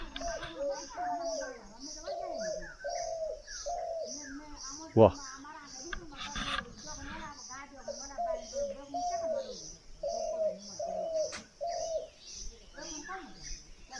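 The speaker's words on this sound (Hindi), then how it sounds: "एक चिड़िया जिसको हम बोलते हैं घुघती, उसकी आप आवाज़ सुन सकते हैं।" A spotted dove coos repeatedly in a soft, rhythmic series of low hooting calls in the Uttarakhand hills, with other birds chirping and a brief loud knock midway, plus a short spoken exclamation.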